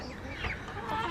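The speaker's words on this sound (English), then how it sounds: "They are lavender Orpingtons, because we want to breed those, and some baby salmon faverols." Baby lavender Orpington and salmon Faverolles chicks cheep and chirp softly at close range over a steady low background hum.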